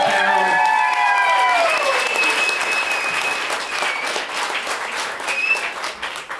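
An audience at a live concert in San Diego applauds and cheers, dense sustained clapping with whoops and a few whistles, loud at first, then thinning out and tapering toward the end.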